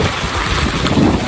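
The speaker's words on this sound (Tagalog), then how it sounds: "Grabe po ang hangin, sobrang lakas ng hangin" Strong typhoon wind in the Philippines buffets the microphone in a loud, continuous roar with gusty surges and no voices.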